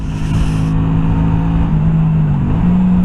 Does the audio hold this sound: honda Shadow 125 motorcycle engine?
yes